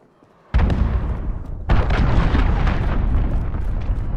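Cruise missile impact in Call of Duty: Modern Warfare, PC beta: a sudden heavy boom followed by a second, larger blast that rolls on into a sustained rumbling roar, loud and close.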